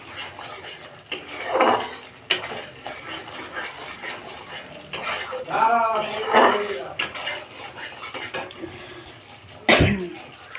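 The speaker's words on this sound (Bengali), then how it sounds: "দেখুন আমি এবার ঢাকনাটা খুলে দেব।" Lid being lifted off a cooking pot of vegetarian doi potol curry: several sharp metallic clanks and clatters ring out close up, with brief voice-like sounds between them.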